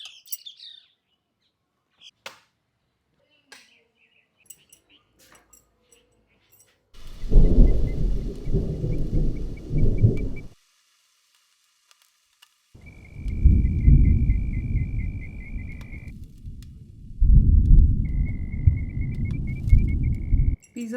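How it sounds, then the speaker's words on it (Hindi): Heavy rain pours down outside a village home garden in bursts, with rumbling thunder and a few bird chirps in the quieter gaps between downpours. "बाहर बारिश इतनी भयंकर आने वाली है कि हमें अंदर भागना पड़ा"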